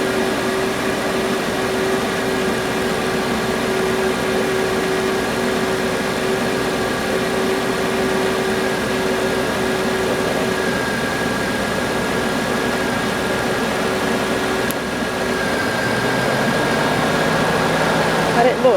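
Cadillac Deville engine idling steadily after being revived, a constant close drone with a fixed low hum that runs unbroken throughout and shifts slightly near the end.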